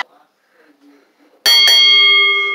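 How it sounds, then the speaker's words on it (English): A ringing bell signals the start of a street fight wrestling match, struck twice in quick succession and then left to ring out loudly with a long, sustained metallic tone after a moment of near silence. "the bell rang"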